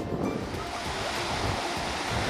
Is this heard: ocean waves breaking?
yes